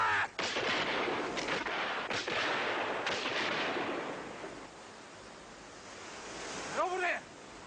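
Several booming gunshots go off outdoors by the sea in a period drama, heavy cracks over rushing wind and surf, followed by a raised voice near the end.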